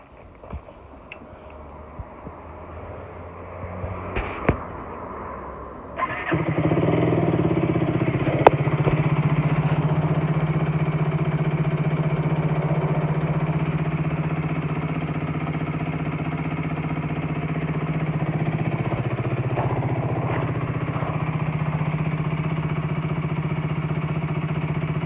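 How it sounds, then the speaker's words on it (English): An F.B Mondial HPS 125cc motorcycle with a new engine gives a few quiet clicks and turning-over noises, then catches around six seconds in and settles into a steady, close, even idle hum that runs to the end. "So now the bike's running"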